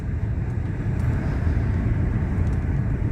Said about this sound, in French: Cette douceur du 6 cylindres, c'est quand même hallucinant.